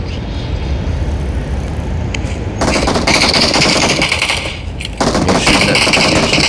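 Gunfire in the video game PUBG: a rapid, loud automatic burst with metallic rattling, starting partway through, pausing briefly, then resuming. A steady low rumble sits underneath and no one speaks.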